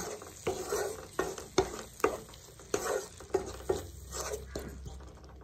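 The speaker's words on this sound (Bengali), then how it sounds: "গুঁড়ো মশলা দিয়ে দিলাম, দিয়ে আবার একটু ভালো করে কষিয়ে নেব" Ground spice masala is stirred and sautéed in hot oil for a Bengali prawn and onion-stalk curry, with close, rhythmic scraping strokes about every half-second to second over a steady sizzle and no talking.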